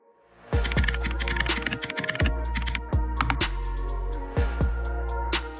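Keys clatter on a computer keyboard as a short browser search is typed: a quick burst of close, crisp clicks, then spaced individual keystrokes with heavier thumps from larger keys.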